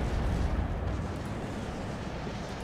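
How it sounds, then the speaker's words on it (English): Continuous rumbling barrage of rocket fire from an MI-24 helicopter in the wartime strategy game WARNO, dense overlapping blasts forming a steady loud roar through the whole stretch, with no voices. "Obviously, MI-24 providing a lot of rocket support"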